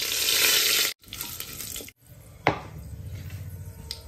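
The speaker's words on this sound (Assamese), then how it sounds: "এতিয়া গুটা মছলাখিনি ভাজি লম" Whole spices fry in hot mustard oil, sizzling loudly at first, then crackling more quietly through brief breaks, with a sharp clatter of a utensil against the pan partway through.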